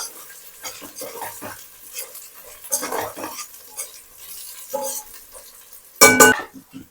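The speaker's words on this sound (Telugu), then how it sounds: "ఆ టమాటా ముక్కలు కూడా ఇందులో వేసేసుకోవాలి. ఇది కూడా 1 నిమిషం పాటు వేగనిద్దాము" Tomato pieces fry in a pan for a pulao while a spoon stirs them, giving soft sizzling under intermittent scraping and clinking strokes, with one louder metallic scrape near the end and no talk.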